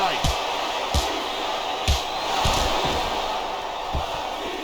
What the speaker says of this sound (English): I cannot remember the last time I've seen a crowd this pumped up.